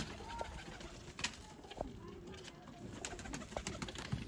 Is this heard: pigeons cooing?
yes